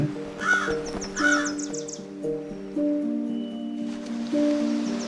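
A crow caws several times, harsh repeated calls rising over a sustained musical background in an animated tale set over the sea.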